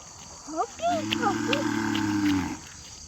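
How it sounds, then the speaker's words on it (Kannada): A cow gives one long, low, sustained moo close by, its call steady for nearly two seconds, with a brief high voice-like chirp just before it. "ಹಸು ಕರಿತೈತೆ ನಿನ್ನ ಕಣ ಅಂತ"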